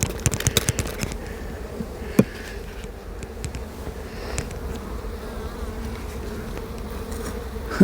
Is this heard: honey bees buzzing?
yes